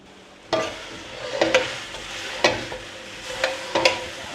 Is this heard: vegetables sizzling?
yes